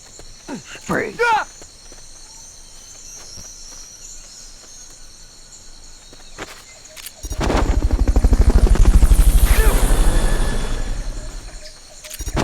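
A helicopter's rotor in Metal Gear Solid Peace Walker thumps in partway through, swelling loud and steady, after a stretch of quieter electronic chirps and scattered clicks.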